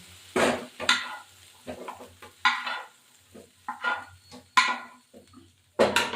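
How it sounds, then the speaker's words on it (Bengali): Prawns being fried and lifted from a pan, heard as intermittent close bursts of sizzle and scraping clatter from a utensil against the pan, separated by brief quiet gaps. "এবার আমার চিংড়ি মাছ ভাজা হয়ে গেছে, তুলে ফেলবো।"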